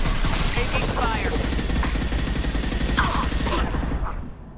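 Dense gunfire from the Mass Effect Legendary Edition video game, with rapid overlapping automatic bursts and shots sustained loudly across the whole stretch before tapering off at the end, a few short voice fragments mixed in.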